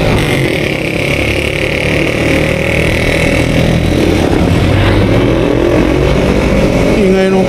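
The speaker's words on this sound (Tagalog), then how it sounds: "Ingay ng tricycle, Diyos ko." A tricycle engine drones loud and continuous on a road in Little Baguio, a rough mid-pitched motor rumble holding steady nearby with faint voices mixed in.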